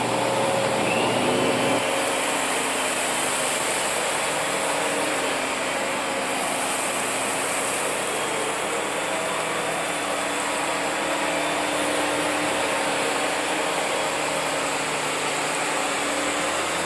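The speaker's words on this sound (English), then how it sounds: "These are both gonna be vacuuming on the high power setting" Kenmore and Electrolux vacuum cleaners running on the high power setting, a loud continuous motor whine and airflow roar, steady throughout with slight shifts in pitch, and no talking.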